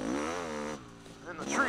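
A Honda CR500 motorcycle engine under way, a loud buzzing two-stroke drone that dips briefly and then climbs again as the rider speaks over it.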